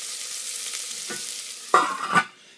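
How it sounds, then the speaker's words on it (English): White onions and leeks sautéing in a pan, giving a steady, close sizzle with a couple of louder scraping stirs near the end, and no voices. "I'm going to just saute this a little bit"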